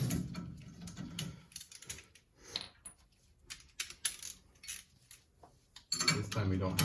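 A torque wrench on the brake bolts of a 1968 Ford Mustang Fastback during a racing brake kit install, giving light metallic clicks and clanks in short irregular bursts between louder handling noise.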